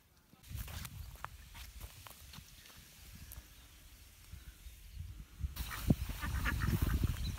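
Ducks on a farm's rice paddies honk and quack in scattered calls, with a louder, busier burst of quacking toward the end over outdoor ambience and soft shuffling steps.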